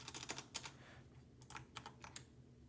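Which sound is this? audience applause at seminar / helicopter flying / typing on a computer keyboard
typing on a computer keyboard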